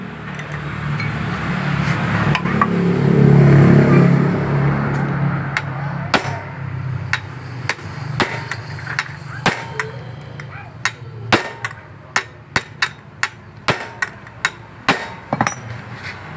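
Sharp, repeated hammer strikes on an impact screwdriver loosen fasteners on the CVT cover of a Yamaha Mio GT scooter, the blows coming in a fast irregular then steady series after a stretch of lower rumbling background.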